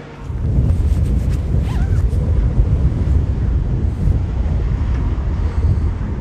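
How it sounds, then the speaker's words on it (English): Strong wind gusting around a parked truck on an unseasonably warm February day, a loud steady roar of buffeting across the whole stretch with no break. "so you guys get to hear some wind."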